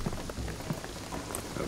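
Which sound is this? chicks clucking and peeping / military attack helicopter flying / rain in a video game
rain in a video game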